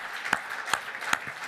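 A small audience applauds speaker Francis Hunt after his presentation, a short, fairly faint patter of claps in a roughly steady rhythm with a few sharper individual claps.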